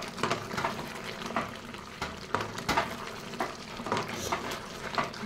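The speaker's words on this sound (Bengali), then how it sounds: "আবারও সব কিছু দিয়ে ভালো মতন কষাচ্ছি।" Mutton sizzles in a pan as it is stir-fried with cumin powder, coriander powder and meat masala, with repeated scraping stirs over a close, continuous frying hiss.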